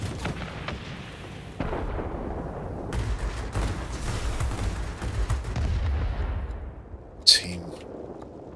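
The aircraft gun of a Junkers Ju 87 D-5 Stuka in World of Warplanes fires sustained, loud bursts over a rumbling engine drone, ending with a single sharp impact; a voice talks over part of it.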